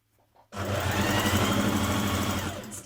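A sewing machine stitches a skirt side seam in one steady, close, loud burst, starting abruptly after a brief quiet moment and running evenly to the end.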